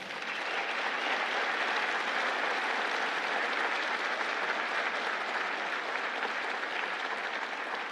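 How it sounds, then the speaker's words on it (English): A banquet audience applauds the winner of the Kemp Leadership Award, a steady and full roar of many hands clapping at an even level throughout, heard alone without talk. "Join me in giving the first round of applause tonight to this year's Kemp Leadership Award winner, Senator Tim Scott."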